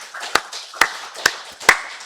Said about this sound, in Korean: 우리 살아계신 하나님께 박수 영광 드리겠습니다.